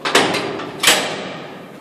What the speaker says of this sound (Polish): O, to są drzwi zjebane.